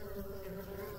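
Honey bees buzz steadily at their hive during a warm winter, a dense, close, continuous drone with no pauses through the short stretch.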